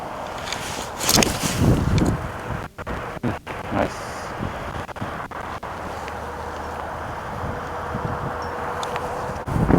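Strong wind sweeps across a golf course, buffeting the microphone in loud roaring gusts and thumps that ease into a steadier rush, with a final surge at the end.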